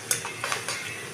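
Food fries golden in a pan while a utensil stirs and scrapes, giving a bright steady sizzle broken by several quick clinks and scrapes, close and clear with no voices.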